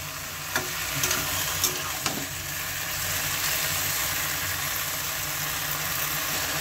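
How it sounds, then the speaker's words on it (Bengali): Vegetables and jackfruit seeds cooking in a pan for a puishak (Malabar spinach) curry: a loud, dense sizzle with a few sharp spatula knocks early on, then steady frying noise. "একটু নেড়ে নেব।"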